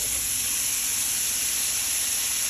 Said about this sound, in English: So the sausage is in the skillet. It is sizzling away.